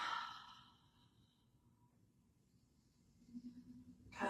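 A long, soft exhale during a power yoga session, starting as a gentle breathy sigh and fading into near silence, with a faint rustle toward the end.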